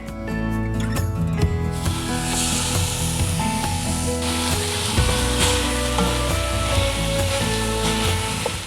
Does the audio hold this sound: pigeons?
no